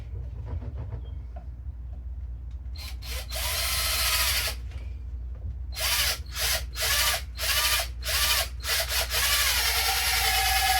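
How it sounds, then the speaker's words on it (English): A power drill whines in repeated bursts, starting and stopping several times as it bores an airlock hole in a grain fermenter, loud and close, with no talking. "we're going to drill our hole so we can put our airlock in"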